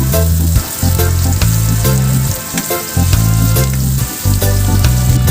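Garlic and onions sauté in a hot pan as the base for braised beef tendon adobo, a loud continuous sizzle with rhythmic scraping and stirring strokes throughout.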